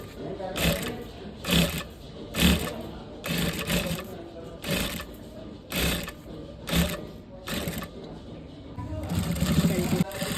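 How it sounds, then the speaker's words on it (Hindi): A sewing machine stitches piping along the edge of a blouse in repeated bursts of mechanical whirring with brief pauses between runs, fairly close, with someone speaking over it at times. "इसे एज पे हमें सिलाई लगानी है"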